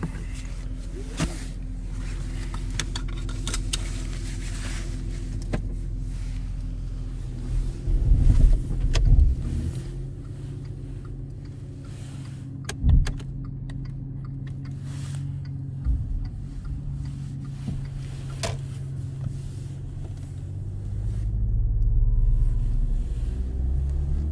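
A Volkswagen Touareg's engine runs while the car is being driven, heard from inside as a low, steady rumble with swells and a few knocks and clicks. The voices are quiet.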